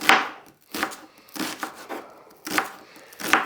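A knife chops a medium-sized onion on a board, giving sharp, close, irregular thuds about one every half second, with no speech.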